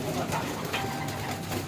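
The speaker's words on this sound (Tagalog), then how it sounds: "Ito po yung mga ibon natin dito." Pigeons coo softly in a pigeon loft amid a dense murmur of many birds nearby, a continuous low bubbling chorus with faint rustling.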